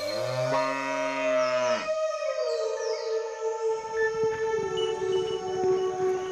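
A cow moos in a long, loud, tonal call that bends and sags in pitch, followed by a sustained lowing tone over a bed of music or ambience, with no talking heard.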